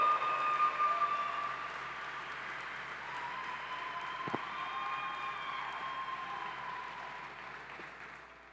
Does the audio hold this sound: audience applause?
yes